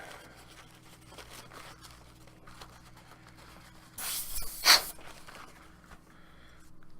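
An airbrush sprays clean water into its paint cup at high pressure to clean it, a brief hissing burst that rises into a louder sputtering spray, heard close over faint background hum with no talking.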